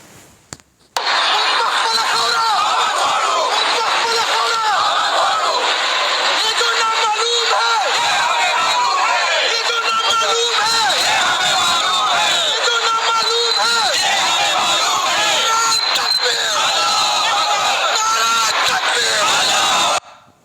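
Protesters chant slogans in a loud, dense crowd, rhythmic massed voices mixed with babble and shouts, sustained for nearly twenty seconds before cutting off.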